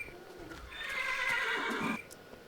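In the Minecraft Tekkit mod a horse gives one clear neigh of about a second. The whinny is close and fairly loud, rising and falling against quiet background noise.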